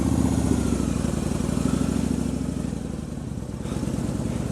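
Kawasaki Vulcan VN2000 motorcycle engine running, a deep, steady pulsing rumble heard close and loud throughout, with no talking.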